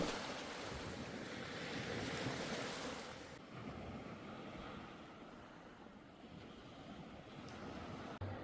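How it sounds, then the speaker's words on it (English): Ocean surf rolling onto a beach, a steady broad wash of breaking waves mixed with wind noise on the microphone, loudest in the first few seconds and then settling into a softer continuous roar. "Binge watching the waves roll in."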